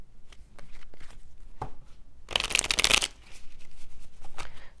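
Tarot cards being shuffled by hand, soft scattered riffles and taps building to one dense, crisp riffle burst in the middle, close and fairly quiet.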